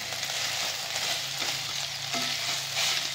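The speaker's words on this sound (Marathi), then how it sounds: "अजून एक अर्धा मिनिट गॅस मीडियमवर ठेवून न झाकता आपण थोडीशी परतून घेऊया" Chopped okra fries with a steady hiss in an uncovered pan over medium heat, with intermittent stirring and scraping from a spatula.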